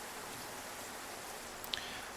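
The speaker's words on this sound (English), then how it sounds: "As you can see, it's raining" Rain falls in the sandbox MMO Xsyon as a faint, steady hiss throughout, with a brief tick standing out near the end.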